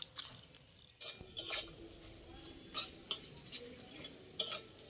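Cashews and raisins are stirred as they fry in a pan for a bhog offering, with a metal spoon scraping and clinking against the pan in quiet, scattered strokes, no voices.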